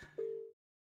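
A phone chirps once with a short steady electronic tone, signalling an incoming call during a live online debate, brief and alone after a faint background murmur.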